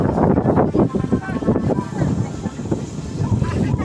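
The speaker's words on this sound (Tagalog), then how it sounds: "Malakas ang hangin." Strong wind buffets the microphone outdoors, a loud continuous rumbling roar with gusty swells, while people talk faintly beneath it.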